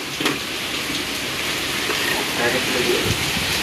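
Steady rain pours down in a dense, even hiss that stays loud and close throughout, with faint voices underneath.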